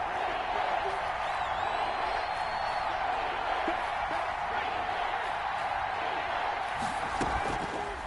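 Stadium crowd at a Seahawks vs Colts football game, a steady loud roar building ahead of a big third down, with an announcer talking over it.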